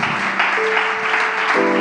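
A church youth congregation claps steadily in a dense, loud wash of applause while a sustained musical tone holds beneath it.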